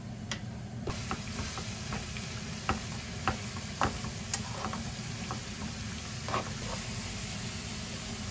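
Burdock root stir-frying in oil, a steady close sizzle broken by repeated light clicks and scrapes of stirring at an irregular rhythm.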